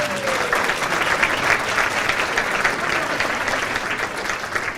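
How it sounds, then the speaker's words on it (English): Dense, steady round of applause from a banquet crowd at an adult bowling association dinner, filling the room continuously for several seconds without a break. "let's give Randy a nice round of applause"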